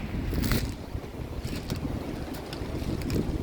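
Gusty wind rushes across the microphone while out shed hunting on public land, a loud and constant roar with stronger puffs throughout.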